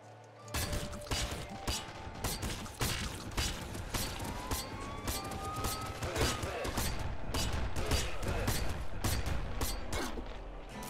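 Rapid gunfire and mechanical weapon effects from the top-down shooter game Nuclear Throne (Ultra Mod) as enemies are shot, a dense, continuous burst of loud shots running the whole way with no talk.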